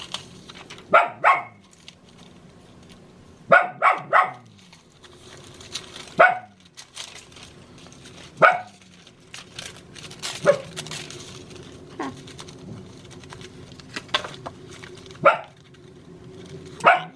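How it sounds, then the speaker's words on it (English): A dog barks loudly in scattered bursts, sometimes two or three barks in quick succession, with quieter pauses and a low background hum between. "That type of barking"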